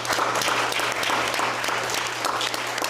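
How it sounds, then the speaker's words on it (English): Sustained applause from the audience at a city council meeting, steady and fairly loud throughout, honoring a volunteer, with a faint low hum underneath. "if you could please give Mr. Navik another round of applause, please."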